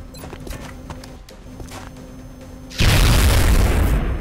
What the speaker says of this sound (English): Yeah, weird explosion, very bassy.